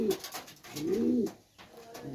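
Pakistani pigeons coo close by, a soft rolling burble rising and falling in a couple of phrases over a faint background.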